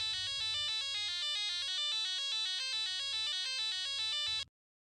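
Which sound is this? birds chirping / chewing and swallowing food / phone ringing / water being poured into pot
phone ringing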